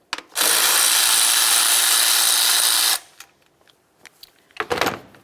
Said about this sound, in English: get this plastic cover out of the way by removing these two 10mm headed nuts